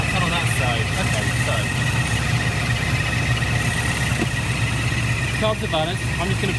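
Steady, close idle from a Rover SD1 V8 after carburettor balancing, a constant low engine drone with faint voices in the background.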